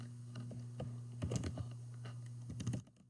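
Quiet, irregular tapping of a computer keyboard as a quiz question is typed into Kahoot, soft clicks over a steady low electrical hum.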